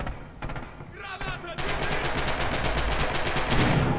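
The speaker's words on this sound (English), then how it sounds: "Guns are unloading." Rapid automatic gunfire rattles through a competitive tactical shooter match, dense bursts of machine-gun shots close and loud, sustained over a steady rumble, with a commentator talking beneath.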